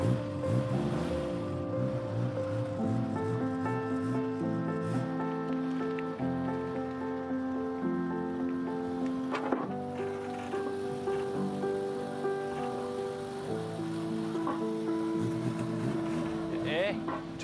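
An outboard boat engine idles on the water as it warms up, giving a steady low drone with sputtering changes in pitch, while people talk over it.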